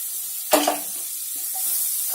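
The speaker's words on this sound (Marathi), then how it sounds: "ह्याच्यात 2 टीस्पून मी बटर घातलेलं आहे." Butter melting in a hot kadhai, giving a sudden sizzling burst that settles into a steady, soft frying hiss, with no one talking.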